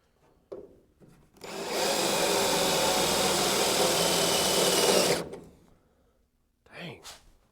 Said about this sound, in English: Of course, this drill also spins faster.